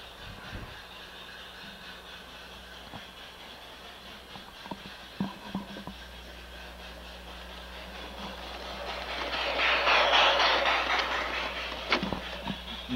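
LGB model trains run around a single-track loop under automatic block control, with a faint continuous hum, scattered clicks and light track clatter, and a brief hissy swell near the end.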